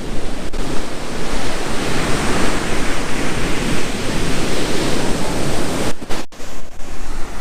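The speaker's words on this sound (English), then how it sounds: "But we're checking out the ocean right here" Pacific Ocean surf rolls onto a black sand beach in Guatemala, a steady, loud, broad wash of waves with wind buffeting the microphone and a few brief thumps near the end.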